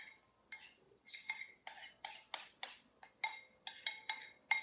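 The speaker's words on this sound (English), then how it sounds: "Now I'm just going to mix it in with my kale and then make sure it's nice and mixed" Kale salad with pine nuts and paprika is tossed in a bowl, making a steady series of about a dozen crisp, rhythmic clinks and scrapes of utensils against the dish, close and alone.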